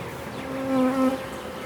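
Close, steady droning buzz of honey bees, with one insect's hum rising in pitch briefly before settling back into the busy swarm.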